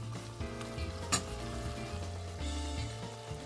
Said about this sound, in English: So we're gonna let this continue to stir fry here for a little bit.